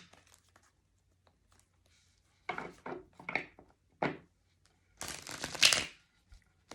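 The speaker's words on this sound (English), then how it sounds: "Sometimes cards don't want to shuffle" A tarot deck is shuffled in several short bursts of riffling and sliding cards, with quiet pauses between them, close by and without talk.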